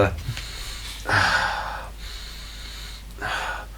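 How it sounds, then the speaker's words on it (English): Several short, sharp nasal sniffs of a beer come close to the mic, spaced about a second apart with quiet pauses between. "Okay, so I'm sniffing."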